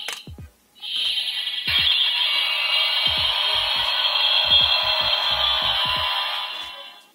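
A bootleg Ultraman Tiga Spark Lens toy changer gives off a loud, sustained electronic transformation effect that starts abruptly and holds steady for several seconds, with a few soft clicks and handling noises underneath.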